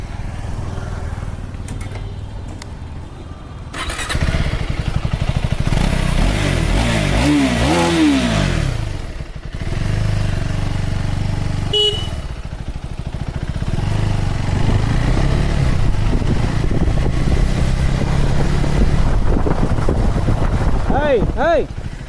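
A 2025 KTM Adventure 390 S motorcycle is ridden, its engine droning and revving through gear changes with heavy wind rush on the microphone, while a person talks intermittently over it.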